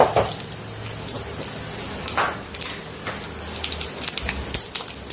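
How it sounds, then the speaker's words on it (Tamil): Mustard seeds splutter in hot sesame oil in a pan on a stove, a dense steady crackle and sizzle with sharp pops scattered throughout, close and continuous with no talk. "இந்த சட்டி காஞ்சிச்சு, அடுப்பில் வச்சு நல்லெண்ணெய் ஊற்றிருக்கோம். அதுக்கு கடுகு போட்டுக்குவோம்."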